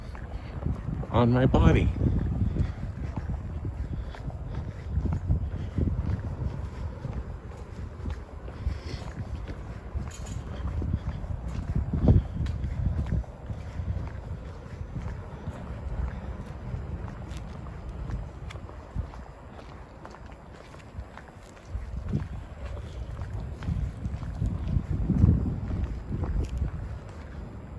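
Wind buffets the microphone on a beach, a loud rumbling gusty roar that swells and fades throughout, with a person speaking over it.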